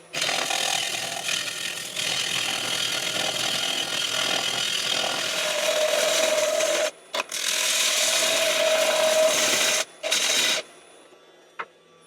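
A woodturning lathe cuts the bottom of a spalted beech platter, giving a continuous scraping, rasping tool sound at close range, broken by two short pauses before it stops near the end.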